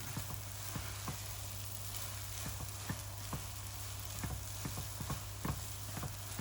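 Egg halwa roasts in a pan, giving a soft, steady sizzle and crackle with frequent small pops and light stirring scrapes, fairly quiet with a low hum under it and no voices.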